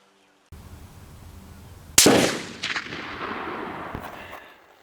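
A single sharp rifle shot from an M1A with a scope on an outdoor shooting range, loud and close, cracking out over a low steady background and fading into a long rolling echo.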